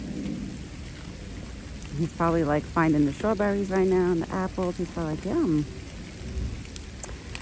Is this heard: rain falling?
yes